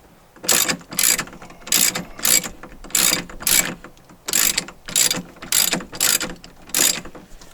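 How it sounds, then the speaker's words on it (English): A hand ratchet wrench tightening bolts on the dash of a 2006 Jeep Wrangler TJ, clicking in about ten steady bursts of rapid pawl ratcheting, close and loud, with no talking. "this is the wrench that I grabbed, so that's just kind of what I'm using"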